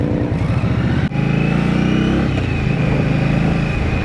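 A 2023 Indian Scout Rogue motorcycle with a 69 cubic inch, roughly 1,100 cc engine, revving loud and close, a steady throaty drone that dips briefly before climbing again and holding.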